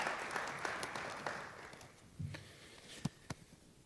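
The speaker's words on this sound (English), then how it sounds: "Let's give him a round of applause" A speaker at a community launch event draws a sparse round of applause. It starts as a light, scattered patter and thins out into a few isolated claps, heard from some distance in a large room.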